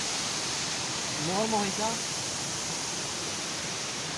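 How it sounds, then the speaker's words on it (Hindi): Jhojha waterfall rushes as a constant broad hiss of falling water, close and steady throughout, with a brief voice rising over it near the middle. "जोजा वाटरफॉल।"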